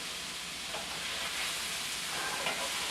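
Ingredients for a Chicago deep dish pizza sizzle steadily in a pan while being tossed with a wooden spoon, making a constant, fairly quiet frying hiss with faint stirring scrapes and no voices.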